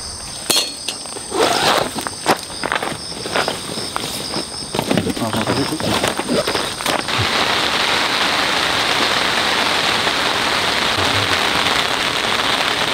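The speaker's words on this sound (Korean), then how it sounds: "비가 와" Sudden heavy rain pours onto a new tent at a campsite. Scattered knocks and shuffles come first, then a dense, even hiss of rain that holds loud and close to the end.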